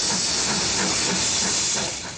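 Steam from a locomotive hisses loudly and continuously in a broad, steady rush, close by, easing off slightly at the end.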